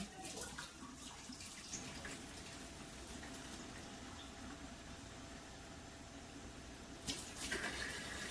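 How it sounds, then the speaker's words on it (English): Steady broadband rushing of warm water running from a tap, continuous for several seconds, fairly close and moderately loud, with a brief surge near the end. "I just run my water."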